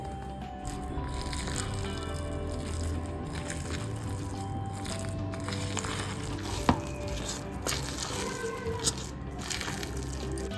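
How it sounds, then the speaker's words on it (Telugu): Vada batter being mixed by hand with chopped green chillies and onion, a continuous wet squishing and stirring close by with a few soft knocks, no talk. "కట్ చేసుకున్న పచ్చిమిర్చి ముక్కలు, ఆనియన్ ముక్కలు వేసి బాగా మిక్స్ చేసుకోవాలి"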